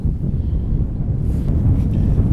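Wind sweeps across a boat on standing water while spinning for zander in spring, a continuous rumbling buffet on the microphone that grows a little stronger in its second half.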